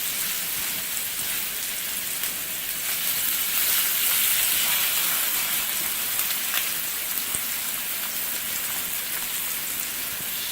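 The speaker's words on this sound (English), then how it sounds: "I'm getting the Salisbury steaks in" Salisbury steaks searing in a hot pan on a stove give a steady, dense sizzle and crackle that holds evenly throughout, close and fairly loud, with no talking.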